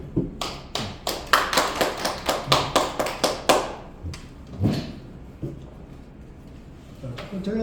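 Hands clap at a Korean Christian workplace-ministry pastors' meeting: a quick, evenly spaced run of crisp claps, then a few scattered slower ones trailing off, with faint talk in the room.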